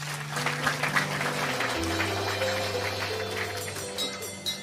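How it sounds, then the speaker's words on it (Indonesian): A church congregation applauds during a sermon, broad steady clapping heard over sustained low organ or keyboard tones that shift pitch partway through. "Kita tepuk tangan."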